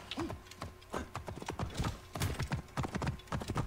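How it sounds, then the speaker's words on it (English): Rapid hoofbeats of a horse in Assassin's Creed Origins clip-clop in a steady galloping rhythm, close and fairly loud, with a brief whinny near the start and some game ambience underneath. "Let's go horse."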